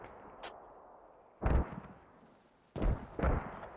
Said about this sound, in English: This is Russian smoke mortars trying to blind fire a little bit